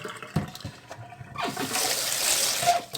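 Water running over germinated seeds prepared for goldfinch and canary breeding: small splashes and drips at first, then a steady, moderate rush of rinsing water.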